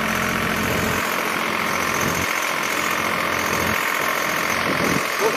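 Swaraj 855 FE tractor engine running steadily at 1700 rpm with its lever fully down, a dense low diesel throb and rumble that holds constant and close throughout, with no clear talk over it.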